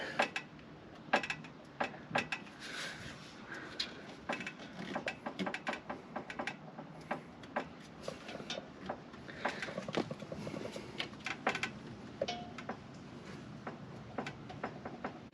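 Irregular metallic rattles and ticks clatter from the engine bay of a Honda Accord with an H22 engine swap, over a low mechanical hum, close by and uneven in rhythm.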